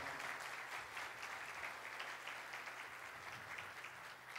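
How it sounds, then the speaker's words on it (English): Church congregation applauding at a Sunday service to honour a high school valedictorian, a sustained, even roar of many hands clapping that stays steady throughout and is heard alone without talk. "and that deserves a round of applause."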